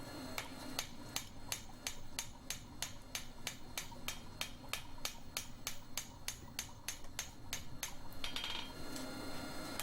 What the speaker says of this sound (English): Just changed hammers for a slightly lighter one for the final